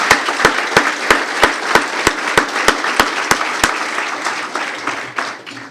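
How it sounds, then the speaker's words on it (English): Audience applause at a city mayor's State of the City address, with a few sharp rhythmic claps standing out over a dense, loud wash of clapping that gradually thins toward the end. "let's give him a round of applause for that"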